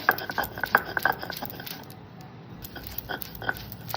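Fried shrimp and shrimp heads with spices being ground by hand on a stone, giving scattered scraping and knocking strokes that are close and clustered at the start, then quieter, with no talk.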